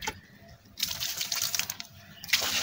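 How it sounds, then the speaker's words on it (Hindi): Water from a tap gushes and splashes onto a cement slab being made for texture, coming in two bursts with a brief lull between, close and fairly loud. "अब हमने इसके ऊपर पानी लगाना होता है, पानी लाजमी है"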